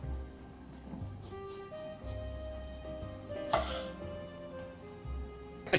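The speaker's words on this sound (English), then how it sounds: "I like to slice the eggplant in an upright position" A knife slices upright through an eggplant on a cutting board, producing a few soft, close cuts and taps under steady background music.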